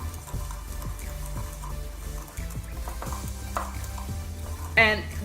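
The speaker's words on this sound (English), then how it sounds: "I'll give them a quick mix with my whisk to get them all incorporated." A whisk stirs salt, garlic powder, black pepper and other dry spices together in a bowl for an all-purpose seasoning, giving a steady run of soft scraping strokes with a brighter clink near the end.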